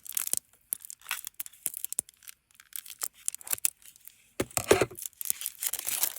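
Ribbon packaging being torn and crinkled open by hand in a series of short, sharp rips and crackles with brief pauses between them, close and fairly quiet.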